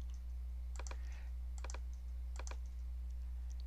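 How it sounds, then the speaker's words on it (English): Typing on a computer keyboard: small groups of quick key clicks, two or three at a time, sound at close range over a constant low electrical hum. "I'm just going to go down here and start typing zeros in these"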